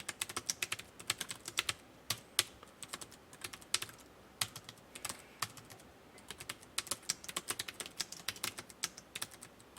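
Rapid, steady typing on a computer keyboard during a PowerPoint exam exercise, with dense clusters of crisp key clicks and occasional louder strikes, close up and alone without talk.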